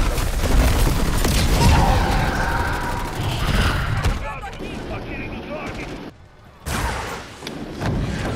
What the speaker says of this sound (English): I'm placing my sentry guns.